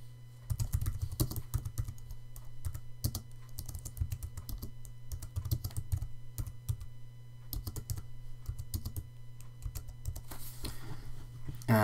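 A name is typed on a computer keyboard, with quick irregular clicks of keystrokes running in bursts throughout. The typing is close and fairly quiet, over a low steady hum, with no talk.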